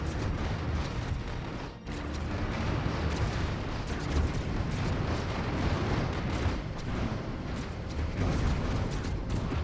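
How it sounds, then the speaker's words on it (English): Plasma cannons firing in a space battle in the video game Stellaris, a dense, continuous barrage of rumbling booms and crackling blasts that stays loud throughout, with one brief dip near the start. "they're just firing plasma cannons at us"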